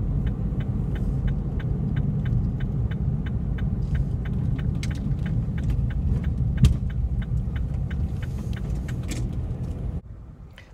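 Steady low rumble of a van's engine and road noise from inside the cabin while driving up to a school, with a faint regular ticking throughout before the sound drops off at the end.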